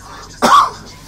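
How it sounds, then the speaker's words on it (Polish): A single sharp cough from someone talking about coffee after meals, one short harsh burst standing out clearly over a faint background. "Proszę Państwa, no, kaszel."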